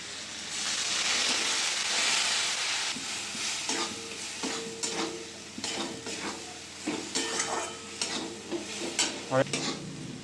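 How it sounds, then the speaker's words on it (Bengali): Masala with turmeric and Kashmiri chili powder fries in a pan, starting with a loud sizzle that settles into softer frying as a spoon repeatedly scrapes and clinks against the pan, close and with no talking. "কাশ্মীরি লঙ্কার গুঁড়ো করে মশলাটা কষিয়ে নেব"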